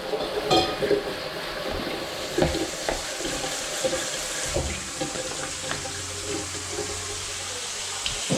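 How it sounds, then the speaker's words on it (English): Mushrooms are rinsed under a running kitchen tap, giving a steady rush of splashing water broken by small clatters and ending with a low hum. "Give your mushrooms a wash first."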